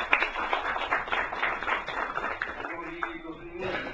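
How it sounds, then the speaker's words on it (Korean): Audience applause at an academic forum on North Korea as an emeritus professor from Japan is introduced, a steady crowd clapping that fades slightly toward the end, with some voices mixed in. "박수 좀 합니다."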